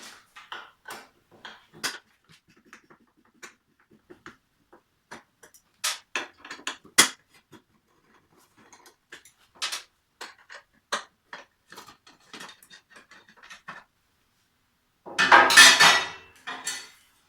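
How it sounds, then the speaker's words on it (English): A 4mm Allen key working bolts out of an aluminium frame plate on a 2014 MV Agusta Dragster 800, sounding as sharp, separate metallic clicks and taps, then a short louder rattle of metal parts near the end. "Using a 4mm Allen key, remove the 3 bolts holding it on."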